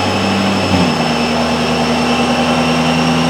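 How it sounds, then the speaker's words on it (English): A car engine pulls lightly and loudly to heat the engine bay during an intake comparison test, with a steady drone that steps up in pitch about three-quarters of a second in and then holds. "he's gonna do a very slight pull just to heat up the engine bay a little bit"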